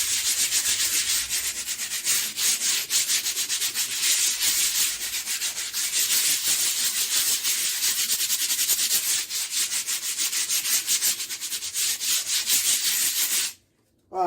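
Steady, close abrasive rubbing of sandpaper scraping excess cement off a cement vase, continuous and rhythmic for the whole stretch, stopping abruptly just before the end.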